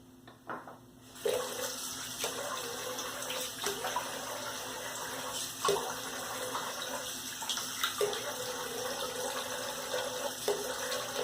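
Water runs from a tap into a sink during a wet shave, a continuous hissing flow broken by regular splashes and clinks every couple of seconds, fairly quiet and close, with no voices.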